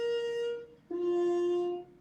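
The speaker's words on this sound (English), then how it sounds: "This happens to be a Harman mute, and this one sounds like this." A trumpet played with a Harman mute sounds two sustained notes in a row, the second lower, each with a thin, buzzy, nasal tone and bright overtones, played alone with no talking.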